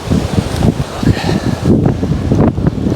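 Strong coastal wind buffeting the microphone near a lighthouse, with heavy gusting roar and rumbling low buffets that surge and ease unevenly throughout, loud and close.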